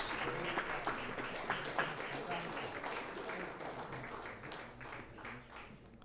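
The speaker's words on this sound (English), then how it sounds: "One more round of applause." A round of applause at a school district board meeting, steady clapping from a modest room of people, fairly quiet and even, slowly tapering toward the end.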